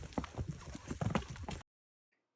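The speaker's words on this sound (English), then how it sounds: "I'm riding the horse today the second time." A horse's hooves clip-clop in an uneven rhythm on a muddy hiking trail in Guatemala, close and steady, then cut off abruptly into silence.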